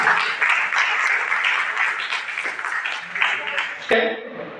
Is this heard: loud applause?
yes